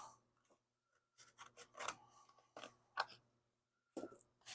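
A strip of cardboard is cut during a car wheel lip rust repair. The cutting comes as short, quiet bursts of snipping and rubbing, separated by brief pauses.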